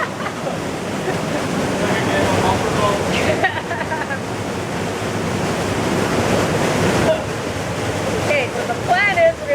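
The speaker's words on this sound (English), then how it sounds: "we're going to try and get a picture of this waterfall here" A waterfall in a slot canyon roars as a steady, broad rushing wash, loud and continuous, with wind buffeting the microphone and some voices under the noise.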